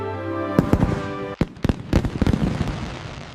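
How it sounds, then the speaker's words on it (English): Fireworks bursting at a summer night show, with a string of sharp, loud booms and crackles arriving irregularly after a brief low hum, alone without talk. "Red, white, and blue fireworks. It is very loud."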